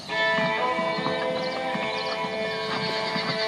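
Horses in the Red Dead Redemption video game neigh and whinny loudly up close, with clip-clopping hooves and a steady background tone beneath.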